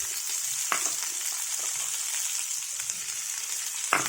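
Sliced onions and slit green chillies frying in a pan, a steady close hiss of oil with a couple of sharp utensil clicks, no voices.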